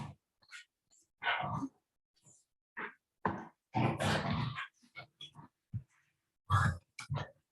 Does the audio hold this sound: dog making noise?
yes